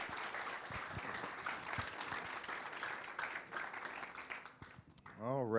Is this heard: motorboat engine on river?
no